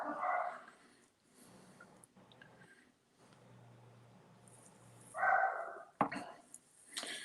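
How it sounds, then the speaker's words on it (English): Pet dogs bark in a few short bursts at a home, faint and somewhat distant, separated by quieter stretches of low background hum. "my dogs think they have to bark at every noise they hear"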